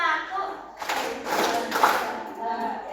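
A school class claps together in a brief burst between stretches of talking, the applause moderately loud and close.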